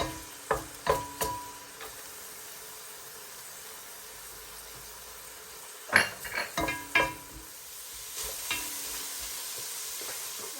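Garlic sizzles in a hot pan while being sautéed for spaghetti sauce. A spoon scrapes and clinks against the pan in a few bursts, with a steady frying hiss underneath.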